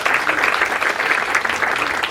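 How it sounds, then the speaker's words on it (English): Audience applause at a Taiwan national selection contest for the World's Best Sommelier competition, a steady, dense wash of clapping that stays at an even level for about two seconds with no pauses. "Could we give a warm round of applause to Taiwan?"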